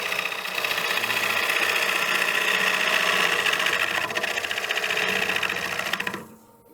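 A half-inch gouge cutting a wooden platter on a wood lathe, a steady dense whirring rasp holding for about six seconds before dropping away as the cut ends, close and even, with no speech.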